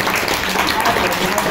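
Guests at a birthday party applaud for the father, a dense burst of clapping with voices mixed in, loud and close throughout.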